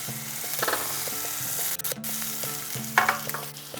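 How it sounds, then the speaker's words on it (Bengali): Whole cumin, chopped green chilli and garlic sizzling in hot oil, a close, continuous hiss with bursts of spattering, a brief stir and a low mechanical hum underneath. "তেল বেশ ভালো করে গরম হয়ে গিয়েছে। এরপর ফোড়নে দিয়ে দিচ্ছি সামান্য একটু গোটা জিরে, দিচ্ছি কাঁচা লঙ্কা কুচি"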